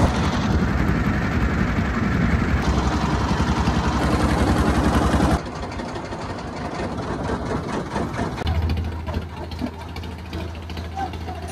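A motor boat ferrying passengers across the river from Kaliganj ghat gives a continuous low engine drone and rumble throughout, with a deeper steady hum setting in toward the end and voices faintly under it.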